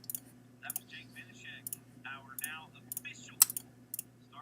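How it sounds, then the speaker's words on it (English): Rapid mouse and keyboard clicks during a streamed dirt-track racing broadcast, sharp close ticks in irregular bursts over a low steady hum, with soft talk in between. "Can you hear my clicking and how annoying is it?"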